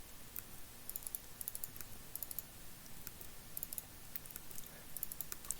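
Light, crisp clicks from a computer mouse and keyboard come in small quick clusters over a quiet background, close and faint, with no talk.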